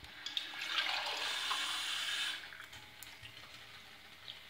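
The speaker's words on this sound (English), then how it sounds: "I'm just going to pour more water into the pot so it can keep boiling" Water poured into a pot kept at a boil makes a steady, fairly loud rushing pour for about two seconds, then drops to a softer hiss and bubbling.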